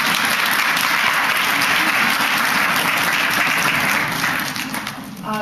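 A large audience at an evening Women in History celebration applauds loudly and steadily for about five seconds, the clapping thinning out only near the end.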